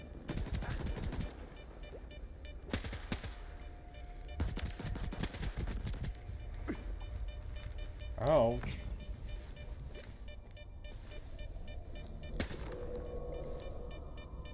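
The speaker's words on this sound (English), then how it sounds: "since it's the zombies, I think I'd rather use a machine gun" Automatic machine gun fire in the video game Stalker 2, fighting zombies: several loud, close bursts of rapid shots in the first six seconds, with someone talking over and between them.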